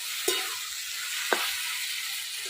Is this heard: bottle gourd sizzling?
yes